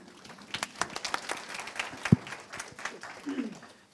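An audience at a women in bus and coach industry summit gives scattered, moderately faint applause, with irregular individual claps and voices murmuring underneath.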